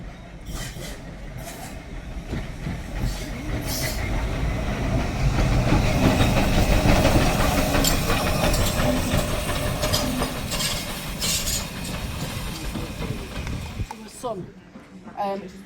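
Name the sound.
Embsay & Bolton Abbey steam train running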